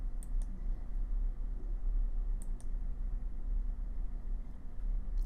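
A computer mouse clicks a few times while working in InDesign master pages, sharp faint clicks in two close pairs near the start and again midway over a steady low background hum.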